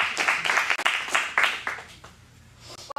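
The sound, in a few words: audience applause at an acting showcase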